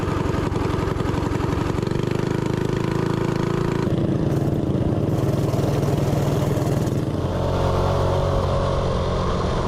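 A dirt bike engine idles and revs with a choppy, pulsing low note. It is close and loud, and the pitch shifts and swells across several throttle changes, with no talk over it.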